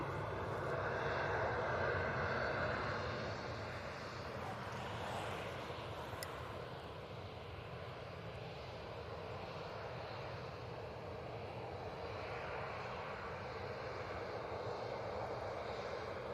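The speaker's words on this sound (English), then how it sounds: "Just had a hard landing, I think." An airliner landing hard at Manchester Airport, a continuous broad jet roar from a distance, loud at first and easing to a steady rumble throughout.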